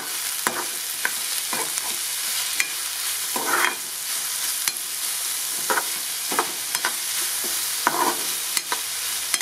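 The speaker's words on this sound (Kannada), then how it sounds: "ಫ್ರೈ ಮಾಡ್ಕೊಳ್ಳೋಣ" Roasted gram fries in oil in a pan while a spoon stirs it, giving repeated scraping strokes at an irregular pace over a continuous soft sizzle, close and clear.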